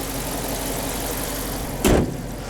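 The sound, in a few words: 2018 Dodge Challenger Shaker 5.7 engine running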